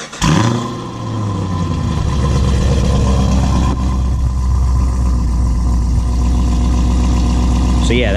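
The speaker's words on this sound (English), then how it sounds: "let's do a cold start on this here" A car engine, in performance mode, cranks and fires up loudly from a cold start, then settles into a steady, rumbling idle up close, with a brief voice audible over it.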